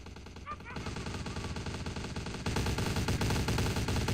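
Rapid gunfire from Vampire: The Masquerade – Bloodlines, a dense stream of shots that swells louder halfway through and carries on over background game sound.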